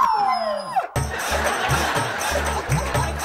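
A dog howls in a long falling wail, then a run of short rhythmic sounds follows at close range.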